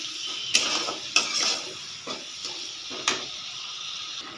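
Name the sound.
spices being stir-fried (kosha) in a pan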